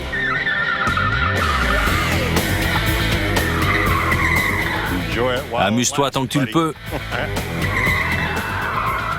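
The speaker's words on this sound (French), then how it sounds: "fait joujou en dérapant avec sa voiture" A car skids and drifts with long tire squeals, loud and close, shifting in pitch as it slides, while someone talks over it.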